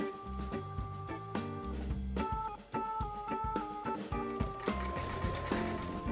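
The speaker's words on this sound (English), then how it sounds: "I'm going to baste it first with the sewing machine" A sewing machine basting fabric stitches in quick mechanical bursts, its motor humming and needle tapping rhythmically, with short stops between runs, up close.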